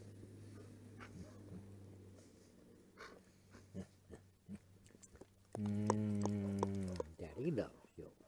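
A big dog, fur shedding as it is petted, makes close sniffing, snorting and breathy whining noises, rising into a sustained whine near the end, while someone talks softly nearby.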